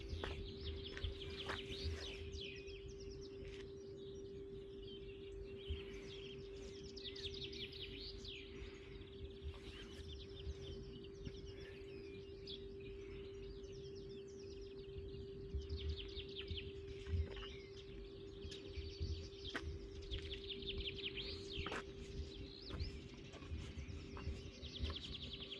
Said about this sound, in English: there are so many bird sounds here and so many trees.